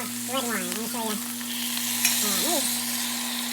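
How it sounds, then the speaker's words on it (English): Sausage, pork and lamb sizzle steadily in a pot for Sunday gravy, a constant bright frying hiss with occasional stirring scrapes, while a voice talks over it at the start and a low hum runs underneath. "You see the sausage, the pork, the lamb, and it's just sizzling really, really nice"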